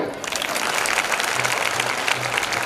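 Audience applause at a Shree Ramling Choudeshwari Devi temple kalasharohan function, a dense, steady burst of many hands clapping together, loud and continuous for a few seconds.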